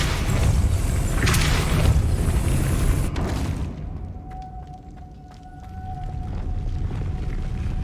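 Depulso force spell cast in the Hogwarts Legacy video game, a broad roaring blast that fades into a low rumble while a thin tonal hum lingers afterward.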